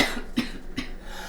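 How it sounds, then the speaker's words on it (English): A lingering residual cough sounds twice, close and sharp, with two quick bursts spaced under half a second apart against quiet room noise. "I still have a residual cough"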